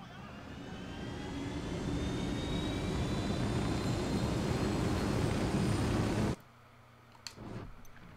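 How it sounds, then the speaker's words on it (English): Airplane flying overhead in Ghost Recon Wildlands, a steady loud roaring engine drone that swells over several seconds and then cuts off abruptly, leaving faint background sounds. "There's a plane."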